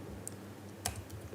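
Soft keystrokes on a computer keyboard, a few quiet scattered clicks over a low background hum with no voices.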